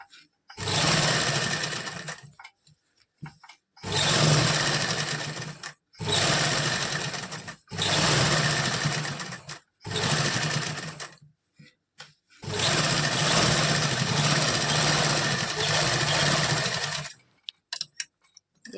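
Sewing machine stitching piping onto a salwar, running in several close, loud bursts of rapid rattling stitches a few seconds each, separated by short pauses, ending with a few brief taps.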